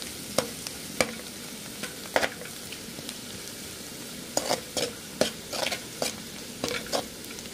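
Vegetable momo filling with added black pepper powder stirred and fried in a pan, a steady sizzle broken by repeated sharp scrapes and clacks of a spoon against the pan, close and fairly loud, with no talking.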